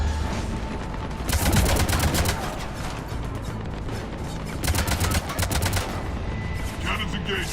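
Ship cannons in Mass Effect 3 fire in rapid, loud bursts of repeated booming shots, pausing briefly between two volleys.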